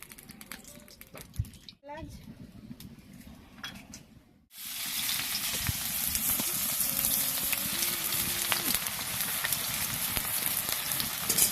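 Onions frying in hot oil for a chicken dish, a sudden rise into a steady, close sizzling hiss that continues throughout, following quieter kitchen handling noises.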